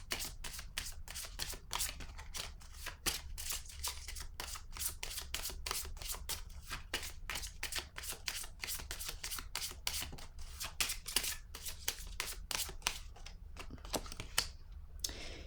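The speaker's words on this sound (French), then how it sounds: "Je vais piger une autre carte." Oracle or tarot-style deck with pink cards being shuffled and one card drawn: a long run of crisp, rapid card flicks and riffling snaps, close and fairly steady, with no talking over it.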